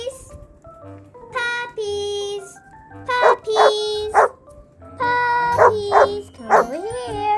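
Puppies bark and yip in short high-pitched bursts, several close clusters of sharp barks with a whiny squeal, loud and near, at a family campsite beside a camper van.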